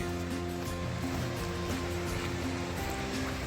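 A river swollen by recent rain rushes past a roadside park, giving a steady, loud broadband wash of flowing water with no pauses, layered with a low tonal hum.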